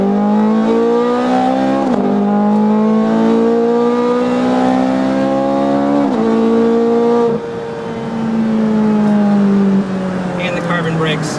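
A Ferrari F430 Scuderia engine revs hard, its exhaust flaps opening as the pitch climbs in sweeping rises and drops between gear changes, loud and close inside the car.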